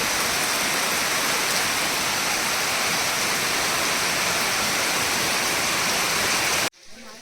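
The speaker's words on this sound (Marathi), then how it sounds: "खालती पन्हाळीचं पाणी दाखवतो." Rainwater gushes from a roof gutter during a heavy village downpour, a loud continuous splashing torrent that cuts off abruptly near the end.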